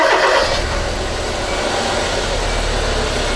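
A Kia Soul with a low-power fault that stalls at stops cranks over and starts, a brief starter burst settling into a steady close engine idle.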